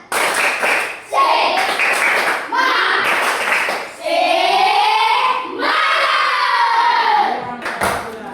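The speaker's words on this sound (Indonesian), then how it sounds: "Kita sama-sama. Tepuk semangat." A class of children performs a rhythmic spirit clap in unison, bursts of sharp patterned clapping broken by short pauses, mixed with children's voices chanting along.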